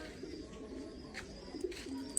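King pigeons at a bird park coo softly, low throaty murmurs repeating in a quiet outdoor setting, with a few faint bird chirps mixed in.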